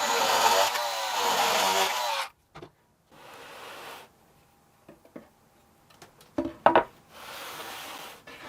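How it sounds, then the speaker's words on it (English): A CNC router cuts small holding tabs to free a bass guitar body from its surrounding wood blank, with loud bursts of high whining spindle noise separated by quiet pauses and scattered clicks and thumps. "cut these 4 little tabs loose to separate the body"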